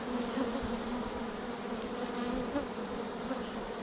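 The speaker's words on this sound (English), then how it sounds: "there's already worker bees coming out" A dense, steady buzz of many honey bees close by, droning continuously without pause.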